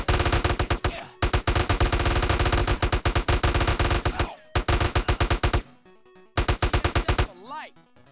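Rapid automatic gunfire from GTA: San Andreas, loud and close, in long sustained bursts with short gaps, followed by sparser single shots and a brief rising electronic tone near the end.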